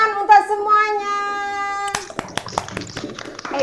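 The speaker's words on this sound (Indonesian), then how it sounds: "Nah, tepuk tangan untuk semuanya." A few scattered hand claps and taps from children in an online primary class, coming after a held sung or spoken note, close and uneven, with voices around them.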